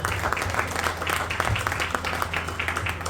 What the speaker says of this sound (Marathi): सुंदर अभिनय केला त्याचा जोरदार टाळ्या उमजावले